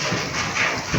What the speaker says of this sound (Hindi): ओले पड़ रहे हैं, लेकिन छोटे छोटे हैं